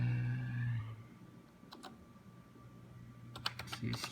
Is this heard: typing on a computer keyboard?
yes